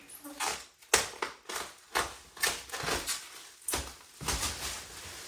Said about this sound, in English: take a pair of scissors and carefully cut the plastic